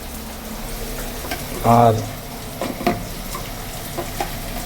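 Cumin powder being stirred into a pan of spices for boal fish roe curry, a soft ongoing sizzle with a louder scrape near the middle and scattered spoon clinks, a single short spoken word over it.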